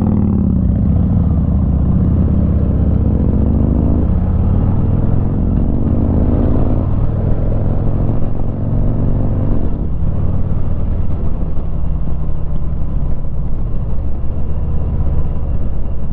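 A 2023 Harley-Davidson Heritage Classic with a Milwaukee 8 engine and Softail frame rumbles steadily while being ridden, with a continuous low engine drone and road and wind noise throughout.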